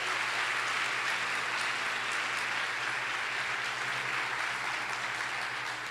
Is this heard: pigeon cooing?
no